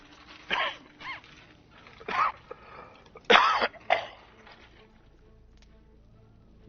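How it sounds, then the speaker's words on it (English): A person coughs hard five times in quick bursts, close and loud, with short pauses between, then quiet. "I am now, just, coughing up a lung"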